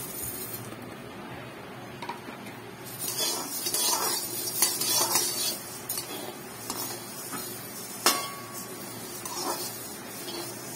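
Pepper, mustard seeds, cumin and fenugreek are tipped into a dry pan and stirred for rasam powder, giving light scraping and rattling with occasional sharp clinks of a utensil against the pan.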